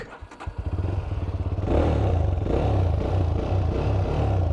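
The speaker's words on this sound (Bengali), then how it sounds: "তাহলে চলেন বাইকটা স্টার্ট করা যাক" A GPX Demon 250R sport motorcycle engine cranks with a few sputters, then catches and settles into a loud, steady, throbbing idle.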